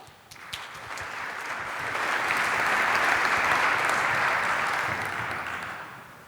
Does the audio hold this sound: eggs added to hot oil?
no